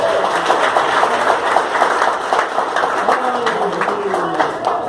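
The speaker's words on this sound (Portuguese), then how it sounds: "aplauda o Senhor bem forte" A church congregation applauds loudly and steadily, dense clapping mixed with shouts and cheering voices throughout, with music or singing underneath.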